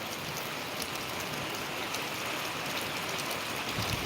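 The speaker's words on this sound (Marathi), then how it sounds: "आणि एकदम चांगल्या पद्धतीचा पाऊस" Dense, continuous rainfall in Buldhana district hisses evenly throughout, a constant wash of water with no other sounds standing out.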